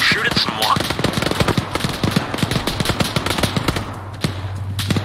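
Rapid gunfire in the military video game ARMA 3 aimed at an enemy van, dense repeated shots in quick bursts, loud and close, with voices talking over the shooting.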